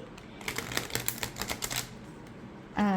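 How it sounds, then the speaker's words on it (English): A quick burst of riffling clicks as cards are shuffled, a dense flutter lasting about a second and a half, followed by a short soft thump. "If I can shuffle it the normal way"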